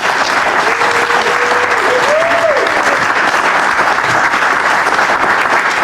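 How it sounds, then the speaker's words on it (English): Audience applause fills a council ceremony honoring a retiree, steady broadband clapping sustained throughout at even loudness, with a faint tonal voice briefly rising underneath. "Let's give him a hand and a round of applause."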